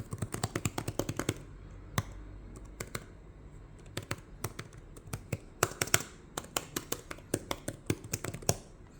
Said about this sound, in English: Let me show you how it feels,